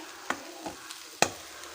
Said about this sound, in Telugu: ఇప్పుడు తరుక్కున్న ఉల్లిగడ్డలు వేస్తున్నా ఈ రుబ్బుకున్న మసాలా వేస్తున్నాను మసాలా వేసి ఊరికి ఒక్క నిమిషం అలాగా దీన్ని వేచ చేసుకుందాం